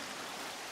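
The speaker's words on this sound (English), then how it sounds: "Now that we have water pouring" Water pours steadily from a lever-opened channel in the video game Darksiders 2, a continuous broadband rush like a stream or light rain, even and sustained with no speech over it.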